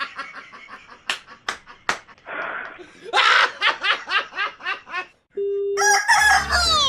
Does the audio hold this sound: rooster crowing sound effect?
yes